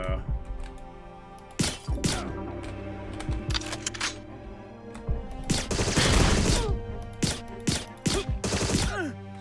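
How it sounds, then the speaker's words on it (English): Silenced gun firing in a video game, a series of sharp muffled shots and bursts over a steady droning game soundtrack, loudest in a dense cluster near the middle, with a person talking over parts of it. "Yeah, this gun is silenced as well."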